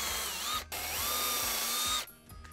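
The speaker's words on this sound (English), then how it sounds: "Get a little pilot hole going." A power drill bores a pilot hole into wood for lag bolts, whining loud and close in a steady run with a short stop and restart before spinning down.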